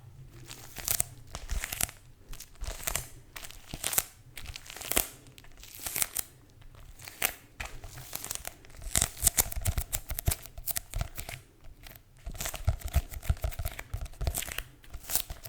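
Continuous rustling and crinkling of school paper sheets being shuffled and handled up close, with irregular bursts and brief pauses.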